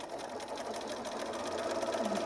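A sewing machine hums steadily and close by as it stitches around the edge of a fusible appliqué patch on quilting fabric.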